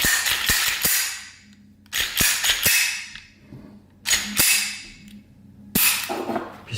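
A Walther PK 380 pistol in .380 ACP, just reassembled, being worked by hand: four loud, sharp metallic clacks of the slide and action, each with a ringing rattle that fades before the next, evenly spaced, close up and alone.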